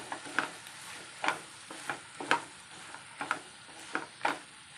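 Spiny jackfruit curry cooked in a pan is stirred after garam masala powder goes in, with repeated scraping strokes of a spoon against the pan at an uneven rhythm over a light sizzle, close and clear.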